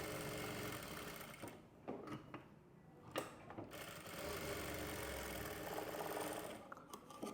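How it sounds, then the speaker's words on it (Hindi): A sewing machine runs continuously while stitching a dart on a katori blouse, with a steady mechanical whir that briefly pauses and restarts, heard close and alone. "डार्ट लगाने के लिए देखो पहले सेंटर में एक सिलाई लगाओ"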